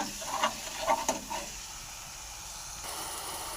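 A spice paste of turmeric, salt and a splash of water is sautéed in a pan for a pangas fish curry, with a few scraping stirs early on over a soft, steady hiss and sizzle.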